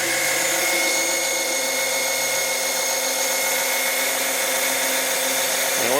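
Small 12-volt electric suction pump drawing oil from a Can-Am Commander engine, a steady high motor whine with a buzzing tone, continuous and fairly close, and it cuts off sharply at the end.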